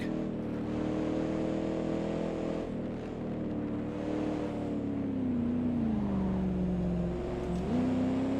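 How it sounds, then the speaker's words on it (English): F3 race car engine in a sim racing game on a classic track, a loud continuous buzzing whine whose pitch rises and falls through gear changes and braking, close and steady throughout. "Just a short race, so last lap here, and get past another car."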